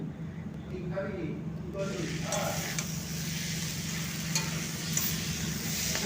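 Spinach with eggplant and ridge gourd being stirred and fried in a pan, a steady close sizzle with scraping stirs, under a voice speaking throughout.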